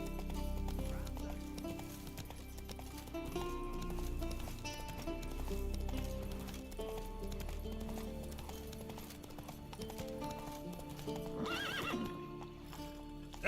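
Roach, the horse in the video game Witcher 3, gallops with steady clip-clopping hooves and neighs over a musical game soundtrack, with a sharp whinny near the end.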